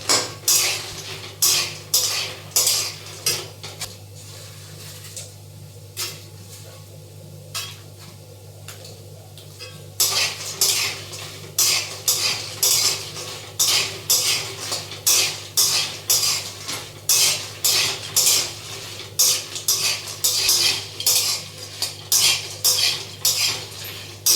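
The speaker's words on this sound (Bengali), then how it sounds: "এবারে আবার একটুখানি নাড়াছাড়া করে নেবো" A metal spatula stirs fried lentil badi and potatoes in a pan, scraping and clacking in quick rhythmic strokes close by. A soft sizzle runs underneath, with a brief pause in the stirring partway through.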